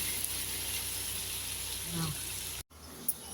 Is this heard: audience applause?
no